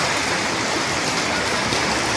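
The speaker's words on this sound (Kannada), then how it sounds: "ಮಳೆ ಅಂದ್ರೆ ಭಾಳ ಜೋರು ಐತಿ ನೋಡ್ರಿ" Heavy rain pours down at night, a dense, loud, unbroken hiss of drops drumming on surfaces with no other sound breaking through.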